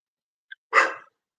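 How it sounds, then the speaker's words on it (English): Dog barking indoors, a faint brief yip followed by a single loud, close bark, alone in quiet. "of course the dog is fucking barking"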